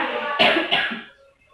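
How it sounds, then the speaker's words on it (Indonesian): A short pair of coughs, close and fairly loud, fading into quiet. "di sini saya agak batuk ya"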